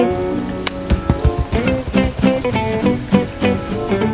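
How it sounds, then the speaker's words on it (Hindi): Water gushes and splashes out of a large water-filled balloon in a homemade water-park setup, a loud, steady, close flow with bubbly, uneven surges. "इसमें से पानी इस तरह से निकलेगा जिस तरह वाटर पार्क में निकलता है।"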